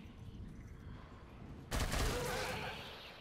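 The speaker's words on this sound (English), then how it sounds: "So just shooting Zeds with the nail gun is very it's very disruptive to them, right?" Nail gun fire at Zeds in the co-op shooter Killing Floor 2, a burst of rapid mechanical shots that starts abruptly partway through, over a low game-ambience rumble and then slowly fading.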